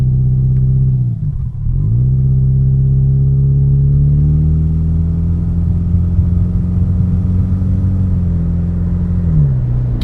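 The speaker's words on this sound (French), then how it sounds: "Du coup, on a mis le pot, il est là. Du coup, on va entendre le pot." An automatic Subaru fitted with a new exhaust pulls away, its loud, close engine drone steady apart from a brief dip early on and a rise in pitch as it accelerates, with no talk over it.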